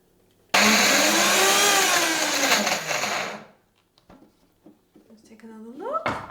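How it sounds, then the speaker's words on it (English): A kitchen blender whirs loudly through organic medjool dates for about three seconds, its motor pitch wavering as the load shifts, then cuts off, followed by a short quieter burst and a sharp restart near the end. "So you want to blend those in a few rounds rather than long."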